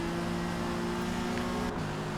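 A Ginetta GT4 race car in Forza Motorsport at Spa holds a steady droning engine note that drops in pitch near the end as it shifts, with no talk.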